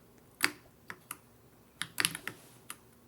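Computer keyboard typing: scattered, irregular key clicks and a quick burst of keystrokes, close and fairly quiet, with no voices.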